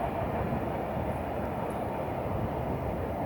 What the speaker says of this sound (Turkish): Evet tren geçti.